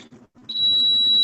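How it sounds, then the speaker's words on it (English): A smoke alarm sounds with a loud, piercing, continuous electronic tone that starts abruptly partway through and holds steady, following a few brief muffled knocks and noises. "That's a smoke alarm."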